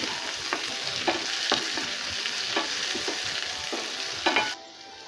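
Green chillies and curry leaves frying in a pan, a continuous soft crackling sizzle with regular scraping stirs close by, ending abruptly.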